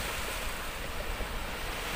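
Sea waves washing onto a wild, deserted Mediterranean beach, a steady broad rush of surf with some wind, continuous and without talk.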